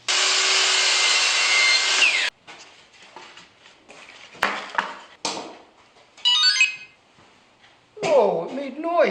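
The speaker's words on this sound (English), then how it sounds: "Oh, it made noise! There's no sandpaper on here yet, but oh my gosh, it's so quiet." A new power sander, run with no sandpaper fitted, whirs loudly and steadily for about two seconds and then cuts out, followed by quieter handling noises and short bursts of talk.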